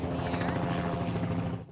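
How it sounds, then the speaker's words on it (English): Police helicopter launched in a manhunt for an escaped convict, equipped with thermal imaging; a steady, loud rotor and engine drone holds throughout, then begins to fade at the end. "Choppers armed with thermal imaging equipment were launched"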